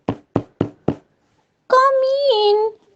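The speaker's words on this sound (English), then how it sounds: "Soon there was a knock on the door." Four evenly spaced knocks on a wooden door, close and distinct, followed after a short pause by a voice speaking.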